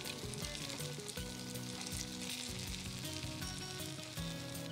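Sabudana thalipith frying in a pan gives a steady, soft sizzle that runs continuously throughout, with a faint crackle and a low background tone and no voices.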